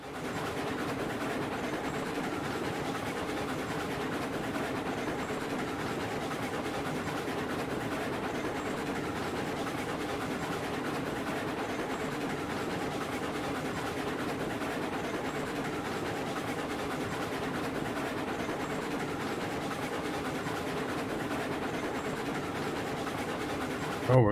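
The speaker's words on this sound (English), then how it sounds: "The logging train is right here." A logging train rolls along the track in the video game Railroads Online, a steady, even rumble with rhythmic clickety-clack of wheels and engine drone, continuous and moderately loud throughout.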